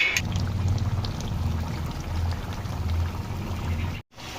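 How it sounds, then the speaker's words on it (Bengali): Hot water pours steadily into a pan of pork and jackfruit curry with fried potatoes, a continuous close gurgling splash lasting about four seconds before cutting off abruptly. "এবার সমস্ত একসাথে কষে নিয়ে দিতে হবে আগে থেকে করে রাখা গরম জল।"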